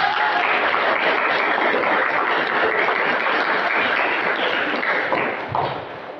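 A classroom of students applauding a group of classmates, with dense, steady clapping that stays loud and continuous before easing off slightly at the end.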